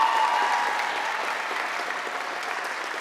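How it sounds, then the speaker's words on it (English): Seniors at a 2024 high school commencement applaud the faculty, staff and board, a steady wash of crowd clapping that fills the space evenly and slowly eases off over a few seconds. "I want you to first turn to the faculty and staff and the board on the sides and applaud them for the support that they gave you"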